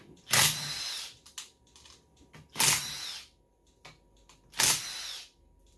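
Power tool bursts removing bolts from a Kohler Courage small engine, three loud whirring runs at roughly two-second intervals, each about half a second long, with quieter clicks and handling noise in between.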